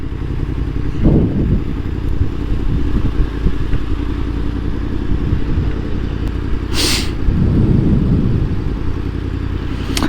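A motorcycle rides steadily through traffic while lane filtering between cars in Salt Lake City, Utah, its engine rumbling loud and close throughout, with passing road noise and no talking.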